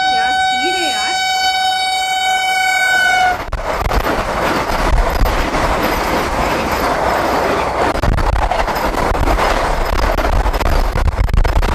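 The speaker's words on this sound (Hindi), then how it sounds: "यहाँ पर अब आपके सामने क्रॉस होने जा रही है वंदे भारत" The Vande Bharat Express crosses past, seen from aboard the Kashi Mahakal Express in India: a long horn blast opens, then a loud, sustained roar of wheels and rushing carriages fills the rest close by.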